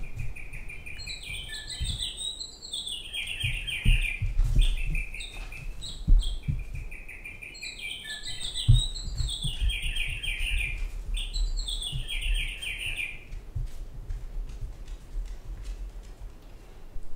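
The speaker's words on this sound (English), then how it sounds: "It's just some bird noises." An American Girl plush toy bird set plays recorded chirping, repeated bursts of bright tweeting phrases in a looping pattern, with faint clicks and handling noise underneath.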